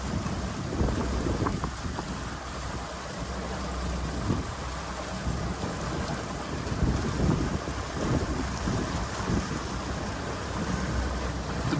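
Wind gusts over a small boat out on the Gulf near Cheeks Creek, where the water is choppy with whitecaps. A steady, broad roar of wind buffets the microphone and mixes with engine and water noise throughout, with no talking.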